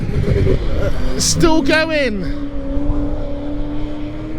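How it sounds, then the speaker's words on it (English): A BMW M3 time-attack car races past on the Snetterton circuit, its engine note sweeping sharply down as it passes close and loud, then fading to a steady drone under excited commentary. "That M3 is absolutely rapid."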